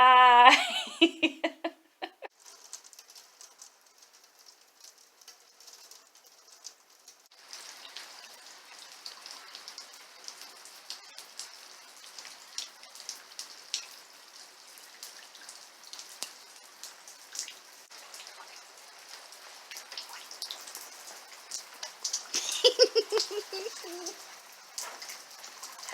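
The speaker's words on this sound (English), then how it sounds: "it's been a rainy day this morning" Rain falling on a rainy morning, a soft steady patter of drops close by, after a brief burst of laughter-like sound at the start.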